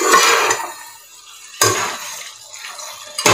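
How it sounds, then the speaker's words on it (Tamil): Coconut milk biryani masala stirred in a pot, with two or three wet, sloshing scrapes of a spoon spaced apart and quieter gaps between them, close by and with no voices. "நல்லா கிளறி விட்டுக்கோங்க"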